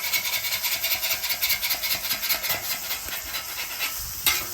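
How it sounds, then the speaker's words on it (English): A metal griddle spatula scrapes the browned crust of a smash burger off a hot griddle in repeated rough, rasping strokes with a steady rhythm over background sizzle, close and fairly loud, ending in one sharper scrape. "See how I'm digging the crust up?"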